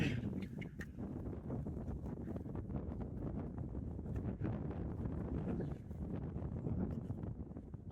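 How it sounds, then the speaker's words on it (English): Gusty wind buffets the microphone outdoors on a hillside path, a rumbling, uneven rush with rustling bursts that rises and falls throughout. "Windy."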